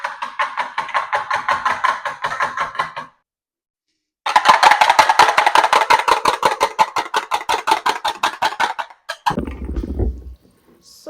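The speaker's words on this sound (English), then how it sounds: "after cracking open the egg, you go ahead and whisk the egg properly" A raw egg is whisked in a bowl with rapid, even, rhythmic clicking strokes, close and fairly loud. Two runs are separated by a short pause, ending with a brief low scrape.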